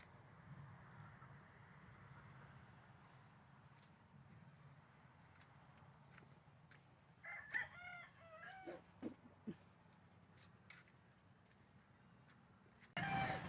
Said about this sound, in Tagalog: Kaabang ang mga manok.